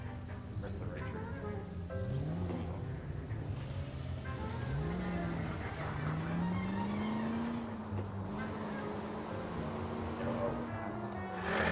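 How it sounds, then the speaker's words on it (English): Engine of a car in the VR game LA Noire VR, a steady revving drone that rises and falls in pitch as the car drives, loud and continuous throughout, with tire and road noise layered in. "Start the engine."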